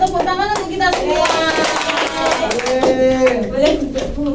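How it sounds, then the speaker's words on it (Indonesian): Children in a classroom clap together, a loud rhythmic patter of hands mixed with voices and a teacher speaking over it. "Tepuk tangan untuk kita semua."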